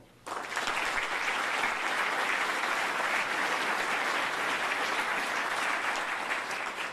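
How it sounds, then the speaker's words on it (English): A chamber event audience applauds its sponsors, a dense crowd clapping that starts abruptly and stays loud and steady for several seconds. "if I could ask for your applause as we recognize BB&T and Stradley Ronan"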